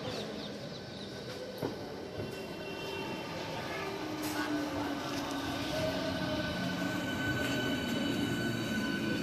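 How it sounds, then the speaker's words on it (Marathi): A Mumbai suburban train bound for Churchgate rumbles and hums steadily for several seconds as it draws into the station, with a few faint clanks and squeals over the continuous roar. "चला मित्रांनो चर्चगेटसाठी आता ट्रेन आले, पकडूया"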